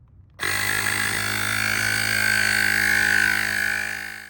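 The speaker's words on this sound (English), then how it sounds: "the inflator is noisy, producing a loud buzzing sound similar to other compact compressors" A cordless Airmoto portable tire inflator switches on and runs, pumping a tire toward 42 psi with a loud, steady electric buzz and whine that holds constant for several seconds, close to the listener with no talking.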